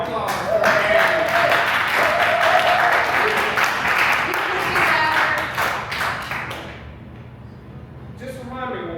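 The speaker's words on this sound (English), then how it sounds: "Give a round of applause for Tabby." Loud, dense applause from an audience at an improv comedy show fills the room for about six seconds and fades out, followed by a voice speaking.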